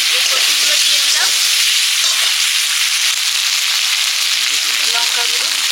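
Taro pieces fry in oil with black cumin, onion paste and turmeric, making a loud, dense, unbroken sizzle heard up close, with faint clinks and light stirring beneath the steady hiss.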